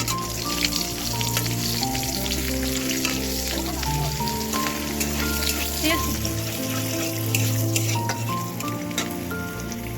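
Green and red chillies temper in hot oil with a steady, close sizzle and crackle that holds for the whole stretch, and a voice talks over it now and then.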